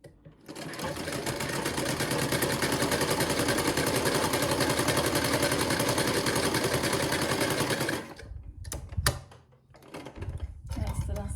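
A sewing machine stitches a straight salwar with its lining, running fast and continuously for about eight seconds, then stopping with a few clicks and fabric handling sounds.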